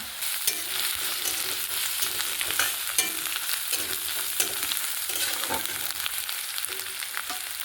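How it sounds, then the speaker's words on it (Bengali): Fried onion with garlic and ginger paste sizzles in a pan, a steady frying hiss broken by light clicks from a spatula being stirred through it. "পেঁয়াজটা ভাজা হয়ে গেছে রসুন রসুন পেস্ট করা রসুন বেট করা দিয়ে দিলাম এবার আদা হাফ চামচ বেট করা"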